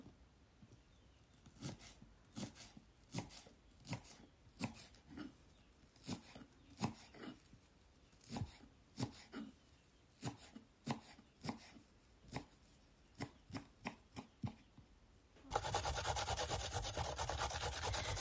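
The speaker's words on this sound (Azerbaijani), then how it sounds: "Bir dəstə də cəfərini doğrayıram." Steady rhythmic knife chopping of parsley on a cutting board, many quick close taps in a row, ending in a sudden burst of loud broadband noise.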